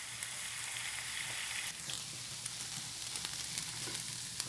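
Ground beef fries in a pan for Mongolian noodles, giving a steady, moderately quiet sizzle with scattered pops and crackles throughout and no voices.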